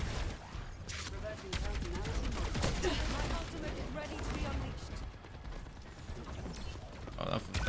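Dense, rapid gunfire crackles almost nonstop in an Overwatch match, with overlapping bursts and metallic mechanical clanks from several weapons at close range.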